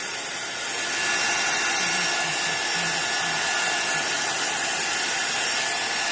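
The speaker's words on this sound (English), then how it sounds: "let's just give these another few moments of heat gun" A heat gun blows onto a glass craft mat: a steady, loud, hissing roar that swells within the first second and then holds evenly for several seconds with nothing else over it.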